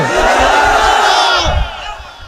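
A large crowd at an outdoor religious rally on a high school field roars a chanted slogan together, loud and sustained, with massed voices swelling and then tapering off near the end.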